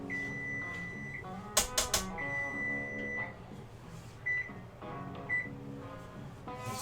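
A kitchen timer beeps for meatballs cooking alongside pasta in boiling water, giving repeated electronic tones over steady kitchen background noise, with a few louder clatters mixed in.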